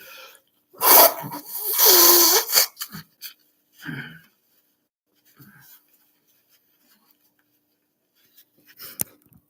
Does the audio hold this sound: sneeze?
yes